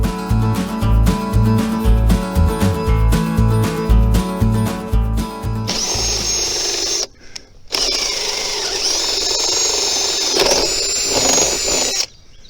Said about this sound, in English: I'm now drilling my weep holes on the bottom sill here